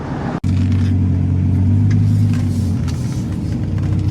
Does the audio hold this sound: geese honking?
no